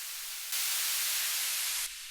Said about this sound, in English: maybe this white noise should sort of be on the background